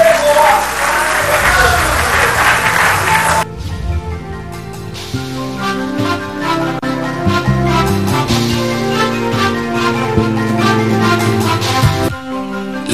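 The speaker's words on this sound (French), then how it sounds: "Sous vos applaudissements, s'il vous plaît." An audience applauds at an award ceremony as a prize is presented, a burst of clapping that gives way to loud music with a steady beat.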